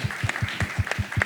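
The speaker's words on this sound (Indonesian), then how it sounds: "Tepuk tangan dulu dong" Audience applause at a talk show, heard as a quick, regular series of claps about five per second, fairly close and moderately loud, with no voices over it.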